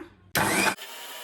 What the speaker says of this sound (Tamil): இதில் வந்து நம்ம இந்த ஜாரை மிக்சியில் வந்து ஒரு டம்ளர் அளவுக்கு தண்ணி ஊற்றி நம்ம அரைச்சிக்கலாங்க